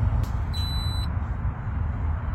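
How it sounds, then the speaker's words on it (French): A single high electronic beep lasting about half a second sounds once over a low, steady hum, as a coffee machine signals it has finished its cycle. "le petit bip pour dire que votre café est servi"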